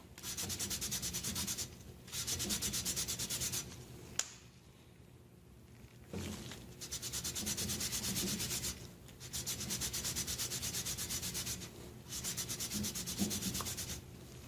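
Rhythmic gritty rubbing from lapping a valve seat on a Toro 724 snowblower engine, several strokes in bursts separated by brief pauses, close and fairly quiet.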